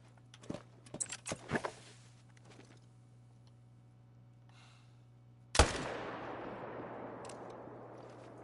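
A single loud rifle shot rings out during a hunt in theHunter: Call of the Wild, followed by a long, fading echo that rolls away. A few soft clicks and rustles come before it.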